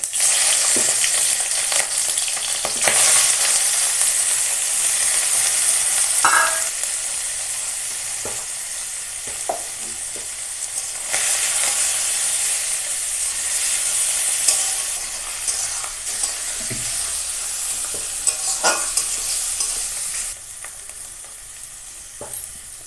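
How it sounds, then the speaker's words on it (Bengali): Catla fish oil sizzles and spits steadily in a frying pan for a long stretch, with occasional crackles and stirring clatters, close and loud. "মাছের তেলটা কাতলা মাছের তেল তেলটা আগে ভেজে নেবো"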